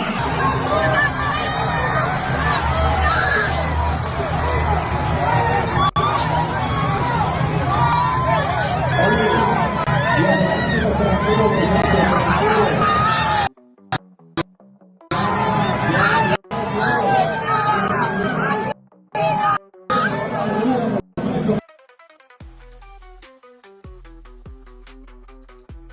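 Agitated crowd during an altercation in Puerto Rico, a loud dense babble of shouting voices that later breaks into choppy bursts separated by sudden silences.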